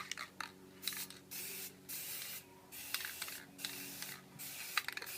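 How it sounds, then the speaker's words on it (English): Never Wet liquid repellent hisses from an aerosol can onto a t-shirt in several sharp, close bursts separated by short pauses, with faint clicks in between. "Alright, so I'm going to spray my t-shirt first."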